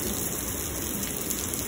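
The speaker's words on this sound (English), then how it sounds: "This is a lot of rain." Heavy thunderstorm rain pours down in Lubbock, Texas, a dense, steady hiss of drops drumming on surfaces that stays even and close throughout, with no thunder or voices standing out.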